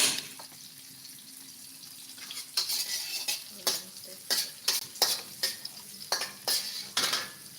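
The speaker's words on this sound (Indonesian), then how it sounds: "Terus di sana lagi goreng tempe." Tempeh frying in a pan while being stirred, with a steady sizzle and a run of repeated scraping utensil strokes against the pan that grow louder and more frequent in the second half; no voices.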